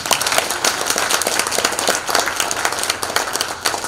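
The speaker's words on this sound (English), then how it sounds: "please give me a big applause" An audience at the seventh-anniversary celebration of a Carolinas Chinese business association applauds steadily, a dense, moderately loud patter of many hands clapping throughout, with no talking over it.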